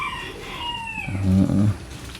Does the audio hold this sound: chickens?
yes